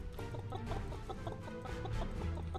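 Chickens cluck in an RTS micro-strategy roguelite game with repeated short clucks. They sit over dense, steady game music and effects for a brief moment.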